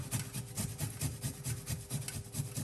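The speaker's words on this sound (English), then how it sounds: "Just grate the ginger." Fresh ginger scraped on a grater, a quick regular rhythm of rasping strokes, close and moderately quiet, with no talk.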